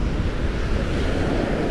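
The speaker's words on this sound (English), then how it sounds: "It's not ultra heavy duty windy out here, but it is the beach" Strong, steady wind on a beach at Cape San Blas, Florida, buffets the microphone with a constant low roar, loud and unbroken throughout, with surf blending into the noise.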